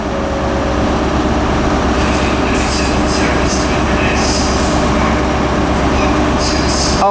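Two diesel multiple units, 158712 and 158717, depart Aberdeen station with a steady, loud, low engine drone and rumble throughout, plus faint high squeals and hisses near the end.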